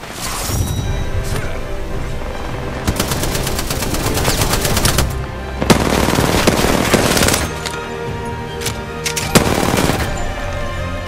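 Gunfire in the video game Apex Legends: bursts of rapid automatic fire and single shots, loud and close, with impacts and crashes scattered through dense overlapping volleys.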